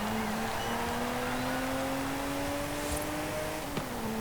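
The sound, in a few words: Ferrari 250 GT Lusso engine revving in Forza Horizon 5 video game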